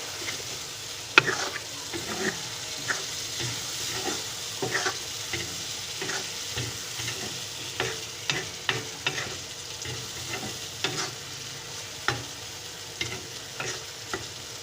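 Ginger garlic paste frying in a pan for a fish egg curry, a constant close sizzle under repeated spoon scrapes and taps at an uneven rhythm for about fifteen seconds, no voices.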